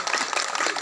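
Crowd clapping hands at a temple festival for a Karuppasamy ceremony, a dense continuous patter of applause throughout, moderately loud with no distinct individual claps standing out.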